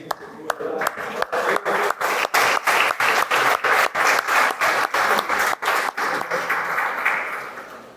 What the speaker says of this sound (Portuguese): Merece ser aplaudido o dia todo.